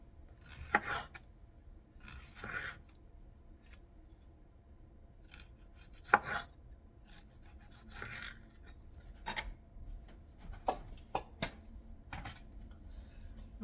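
Knife cutting small tomatoes into thin slices, giving a series of soft crisp slicing cuts in irregular rhythm, close by over a quiet kitchen background with no talking.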